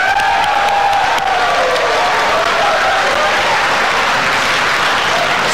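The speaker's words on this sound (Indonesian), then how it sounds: "Kita berikan tepuk tangan." Sustained loud applause from the audience at a 2014 Indonesian presidential candidates' debate, dense steady clapping throughout with a few faint voices early on.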